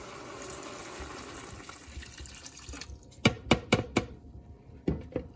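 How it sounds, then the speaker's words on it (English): Liquid stock pours and splashes over pearl barley in a slow cooker, starting as a continuous trickle and ending in several sharp, close splashy knocks, moderately loud, with no talking. "throw in the pearl barley, cover it with stock, give it a stir"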